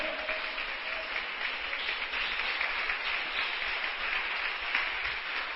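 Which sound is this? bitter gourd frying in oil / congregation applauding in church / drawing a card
congregation applauding in church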